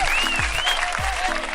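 Short burst of applause given as a hand clap for a crypto giveaway winner, a broad clapping hiss mixed with brief whistling tones and low swooping thumps, heard alone without talk.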